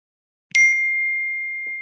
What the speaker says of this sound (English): Did everyone else hear that, like a bell?